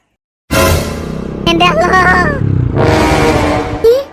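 Cartoon motorbike ride with a continuous engine drone that rises and revs, with animated character voices talking over it.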